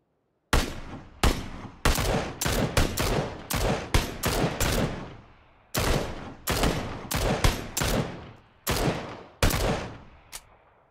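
Bursts of gunfire from PUBG, aimed at the tires of a car, ring out in a dozen or so sharp, loud volleys with brief pauses between them, close and with no talking.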